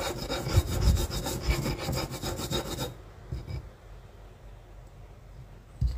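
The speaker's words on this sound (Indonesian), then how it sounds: "sejumput ketumbar, kita haluskan ya bersama dengan garam" Coriander seeds ground with salt for crispy tofu, a rapid gritty rubbing and scraping that runs steadily for about three seconds and then stops, leaving faint quiet handling and a final light knock.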